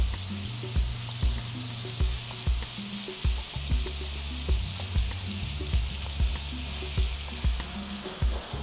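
Pancetta and vegetables fry in a pan on a TV cooking show, a constant loud sizzle broken by regular clicking stirs of a utensil against the pan.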